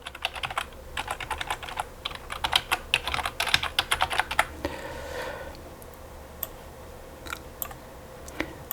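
A computer keyboard is pressed in quick bursts of sharp, close clicks, dense at first and then thinning to a few scattered taps, with no voice over them.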